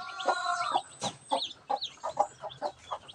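Newly hatched chicks from an incubator, only five surviving, peep in quick, bright chirps that come one after another close by, with no talk over them.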